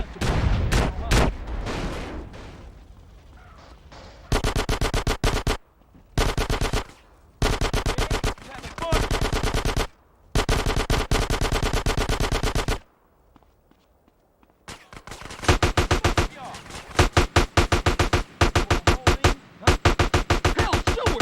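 Bursts of automatic gunfire in GTA San Andreas, loud rapid volleys repeating in separate runs, broken by short quiet gaps and a longer lull, with game voices speaking in between.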